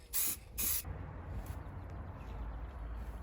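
Two short bursts of spray paint from an aerosol can lay a light coat of red onto a Citroen C1 front passenger wing already primed in black, followed by a quiet room.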